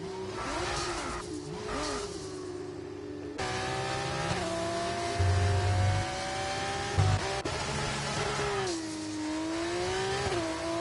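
An F1 race car in F1 24 spins off track at Abu Dhabi: a steady, loud engine drone shifts pitch as revs rise and fall, with brief tire squeal and skid bursts partway through, with no voices.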